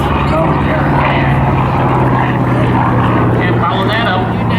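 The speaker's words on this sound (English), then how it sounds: "you can notice the power performance of the F-8F Bearcat as they climb right on out" A Grumman F8F Bearcat propeller fighter climbs out at an airshow, its radial engine droning loud and steady throughout as a commentator talks over it.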